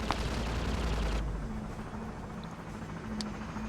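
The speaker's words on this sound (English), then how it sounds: "I see that gunship also firing." Gunship firing in Half-Life: a dense rumble of rapid gunfire and low mechanical droning, loud and continuous, with a sharp ping near the end.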